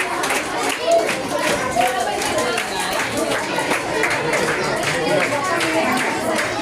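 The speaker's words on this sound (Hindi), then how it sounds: "बच्चे ताली रुकनी नहीं चाहिए आप लोग की।" Schoolchildren clap at a secondary school prize distribution, a dense and steady wash of many small hands with crowd chatter mixed through and voices audible over it.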